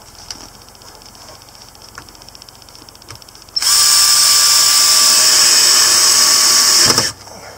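A power drill drives screws into an L bracket for an awning, one loud steady whine of about three and a half seconds after a quieter stretch of handling, then stopping abruptly.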